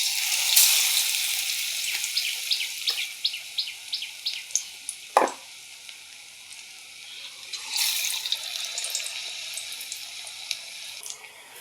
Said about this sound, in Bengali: বেগুনিগুলো ভাজা হচ্ছে